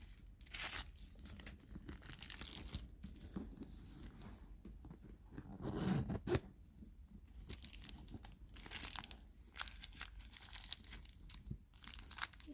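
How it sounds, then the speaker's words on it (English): Packaging around a Dooney & Bourke handbag gets cut and pulled open. The sound is quiet, close tearing and crinkling of paper or plastic, uneven in rhythm, with a louder rustle near the middle. "let me cut this part so we can look inside"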